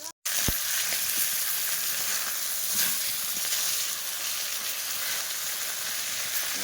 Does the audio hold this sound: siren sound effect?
no